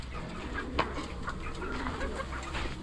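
Chickens and ducks cluck and murmur continuously nearby, a busy farmyard chatter over steady background noise.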